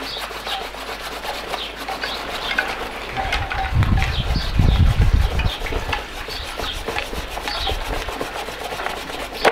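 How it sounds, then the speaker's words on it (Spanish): A handsaw rasps through a dead Cryptomeria japonica trunk, a steady back-and-forth scraping that swells louder midway, close and alone with no talking. "estoy aquí con el serrucho en un tronco que además está muerto"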